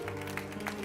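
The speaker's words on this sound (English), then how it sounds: "Put your hands together. Get the Lord a hand clap of praise." A church congregation claps in praise, a soft, fairly distant patter of many hands over a low hum of the room.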